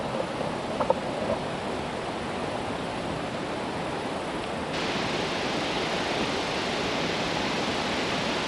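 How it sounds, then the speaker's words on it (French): A waterfall in a park near Quebec pours in a steady, broadband rush of falling water that stays constant and fairly loud from start to finish, with no voices. "On voit un peu la cascade."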